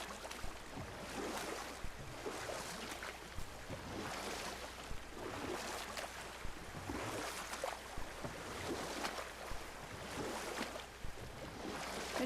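Boat being rowed across water in the God of War video game, with soft rhythmic oar splashes every couple of seconds over a steady wash of waves and wind, faint and without talk.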